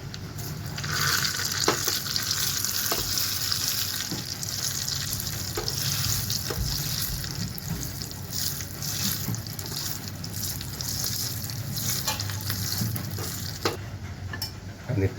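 Garlic, dried red chili and curry leaves frying in hot oil for a tadka for chole masala, a steady close sizzle and crackle with occasional stirring scrapes and pops, no talking.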